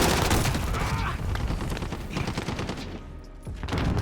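Rapid, continuous submachine gun fire from a P90 in Modern Warfare, dense bursts of automatic shots running nearly the whole time with a brief lull near the end before firing resumes, loud and close with no talking.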